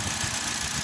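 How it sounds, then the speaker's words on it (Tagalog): A gasoline Hyundai Accent engine idles after an oil change, automatic transmission fluid change and brake cleaning, giving a steady, close, even rumble with no talk. "Tumahimik lalo yung makina"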